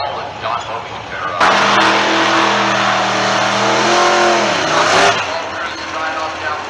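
A race car roars past during a qualifying session at an ANRA season opener, its engine note rising loudly then dropping in pitch as it passes close by, with a commentator speaking before and after.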